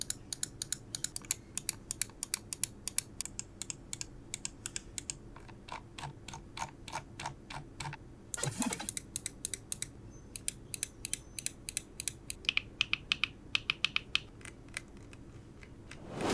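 Close, crisp clicking from computer mouse buttons on mice priced from a few hundred to several thousand baht, tapped in rapid runs and separate clicks over about sixteen seconds, with a brief rustle midway and no talk.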